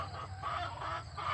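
Hens in a backyard coop and run give soft, close clucks and murmuring calls in a loose, repeating rhythm, with no talking over them.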